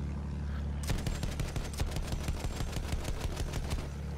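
Rapid bursts of aircraft machine-gun fire from a plane's strafing run in the Battlefield 1 video game, a dense rattling volley that kicks in suddenly after a steady engine drone and keeps hammering loud and close for several seconds.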